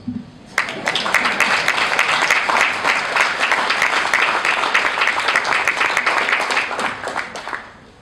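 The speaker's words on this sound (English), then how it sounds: "Or you can clap first." An audience at a JMMB annual general meeting breaks into sustained applause, many hands clapping steadily for several seconds before tapering off.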